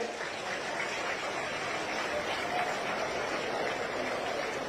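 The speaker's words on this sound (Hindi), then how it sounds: "आप सबकी तालियां मंच तक आती रहे।" Crowd applause at a women's welfare ceremony in Haroli, Una, rolls on as an even, hissing patter of many hands, sustained and fairly loud throughout without a clear break.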